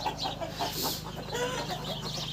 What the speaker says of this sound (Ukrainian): А, кури б'ються вони.